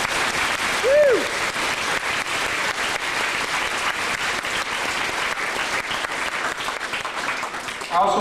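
An audience gives a warm, sustained round of applause, dense steady clapping that fills the room from start to finish, with a brief whistle near the beginning.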